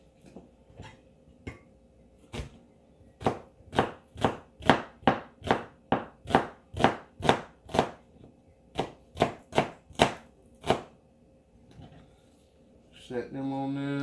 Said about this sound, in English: Just gonna slice these onions up into thin slices.